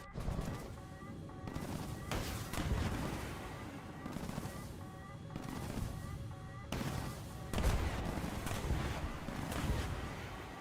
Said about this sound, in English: Fire your missile. Yeah, I'm firing.